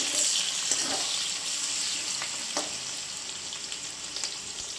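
Onions, garlic and green chilies frying in hot oil for a Sri Lankan eggplant and chickpea curry, a loud steady sizzle close up with a few light stirring knocks.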